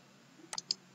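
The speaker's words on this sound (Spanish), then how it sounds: "Damos clic en siguiente." A computer mouse gives two or three quick, faint clicks while software is being installed, sharp and close against a quiet background hum, with no speech.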